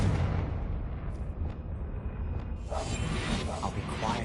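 A Confringo fire spell in Hogwarts Legacy bursts with a deep, rumbling explosion and a roaring whoosh that lingers, followed by crackling debris, loud and close with no speech.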